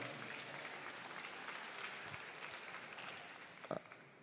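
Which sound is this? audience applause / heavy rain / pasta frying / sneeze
audience applause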